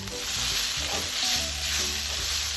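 Onions and a quarter teaspoon of red pepper flakes sizzle in a hot pan, a steady close hiss with light stirring scrapes and a faint low hum underneath, no one speaking.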